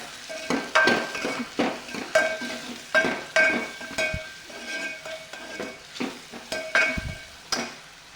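Ridge gourd sautéed in a metal pan with turmeric, red chilli powder and salt, a spatula scraping and clinking against the pan in a steady series of close, sharp strokes over a soft sizzle.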